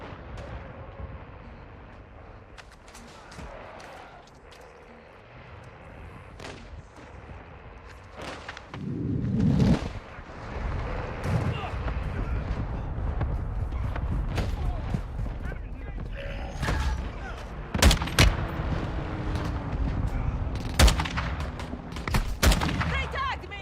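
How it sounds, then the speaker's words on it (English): Mortar strike explosions and gunfire in Call of Duty: Modern Warfare II, with scattered gunshots, then heavy booming blasts and a sustained roar of combat, sharp cracks punctuating the din. "Hostile mortar strike incoming."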